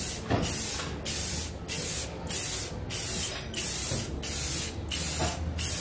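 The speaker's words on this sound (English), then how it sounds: "I'm going to give it a mist coat, a very light mist coat" Light mist coat sprayed onto car taillights from an aerosol can, a series of about eight short hissing bursts in steady rhythm, close and clear.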